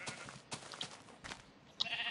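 Sheep in the Minecraft video game bleat in a few short, faint calls spread across a brief moment, heard alone without talk.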